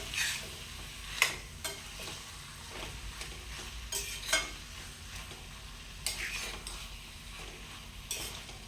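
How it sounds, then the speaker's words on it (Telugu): Capsicum and tomato pieces are stirred in a frying pan for a Telugu capsicum curry, a steady sizzle broken by scattered scrapes and clacks of the spoon against the pan, close and moderately loud with no talking. "క్యాప్సికమ్ ముక్కలు ఈ టమాటా ముక్కలు బాగా కలిసేటట్టు కలుపుకోవాలి."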